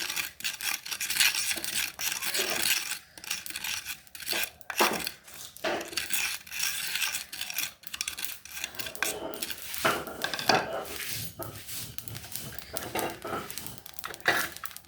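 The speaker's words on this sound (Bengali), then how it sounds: "এখন পাঁচফোড়ন ভেজে নিচ্ছি" Panch phoron whole spices dry-frying in a pan for a chalta (elephant apple) pickle, giving a continuous dry rattling, scraping crackle with uneven bursts, close and fairly loud, no talking.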